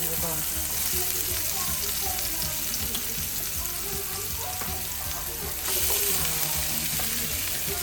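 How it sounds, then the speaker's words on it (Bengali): Zucchini frying in a pan with onion, a loud, steady sizzle and crackle that runs throughout and swells slightly near the end. "যখন জুকিনি রান্না হচ্ছে"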